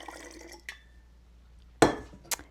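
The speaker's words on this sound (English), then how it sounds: "you add water. You just want to rinse it." Water is poured through the mesh screen lid of a glass sprouting jar to rinse the sprouts, heard as a few short splashes and glassy clinks separated by quiet gaps.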